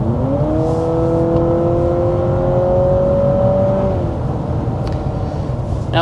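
A 2026 Honda CR-V climbing a canyon road in Southern California, engine note heard from inside, rising gently as it holds a steady pull, then easing off, with constant road and tyre rumble beneath.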